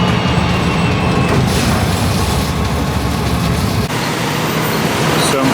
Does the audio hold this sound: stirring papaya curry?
no